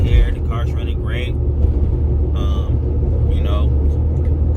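A Chevrolet Camaro SS engine, freshly fitted with new spark plugs after water got into it, runs with a steady low rumble that continues beneath a voice.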